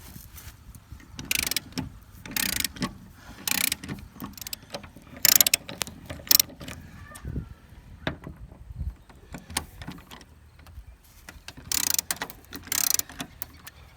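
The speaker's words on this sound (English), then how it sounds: "I have a T50 Torx bit on a 3/8 drive ratchet." A 3/8-drive ratchet fitted with a T50 Torx bit clicks in quick bursts while working stuck bolts loose, alongside metallic clunks and knocks, close by and with no talking.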